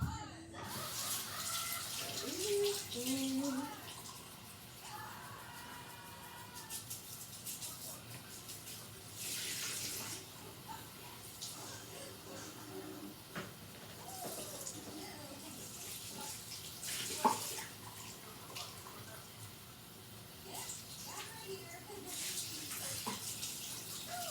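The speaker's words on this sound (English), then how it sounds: "You're going to want to fill it up with water." Tap water runs into a cup for a while, a steady hiss with bursts of splashing and faint clinks, while a voice speaks softly now and then.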